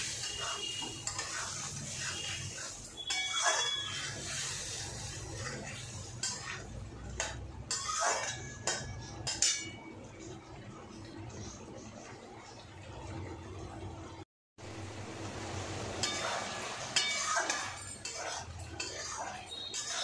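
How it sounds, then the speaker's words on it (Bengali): Spices with salt and turmeric sautéing in a pan for cauliflower curry, with a steady sizzle under repeated spoon stirring, scraping and occasional metallic clinks against the pan, close and continuous. "এখন আন্দাজ মতো নুন দিচ্ছি, আর হলুদ। এবার ভালো করে কষাবো।"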